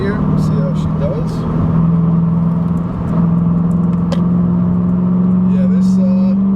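A 2005 Ford Mustang GT with its engine droning steadily from inside the cabin as it drives through a corner, the pitch holding and then rising slightly as it pulls out, with someone talking over it.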